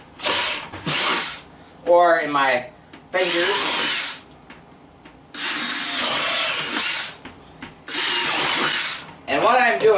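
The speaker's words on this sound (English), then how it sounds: "I'm going to drill a bunch of holes all the way around this bucket" Power drill boring holes around the sides of a plastic DeWalt bucket, several loud bursts of drilling separated by short pauses, with someone talking in between.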